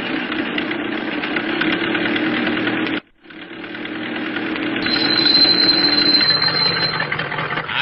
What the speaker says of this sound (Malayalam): നിങ്ങളുടെ കാറിന്റെ സൈലൻസർ വഴി വീണു.